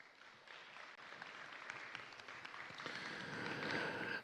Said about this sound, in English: really a big round of applause for those people that did your fat heads